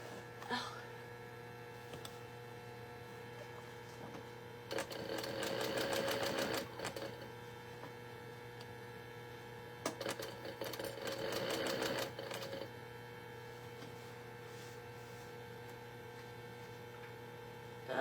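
A sewing machine stitching a crossbody bag in two bursts of rapid mechanical clatter, each about two seconds long, separated by quiet room tone with a faint steady hum.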